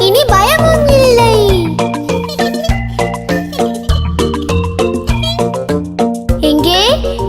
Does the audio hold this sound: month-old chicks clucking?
no